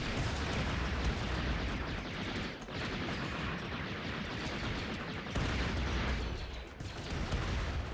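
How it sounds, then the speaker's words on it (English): Mortar fire during a RimWorld battle between clones and droids: a dense, continuous barrage of booming blasts and rattling gunfire with brief dips in intensity. "we still have some mortaring happening"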